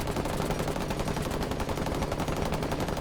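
Steady rapid gunfire from the 417 designated marksman rifle in the video game Rainbow Six Siege, a dense, continuous stream of loud shots with no pauses across the whole stretch.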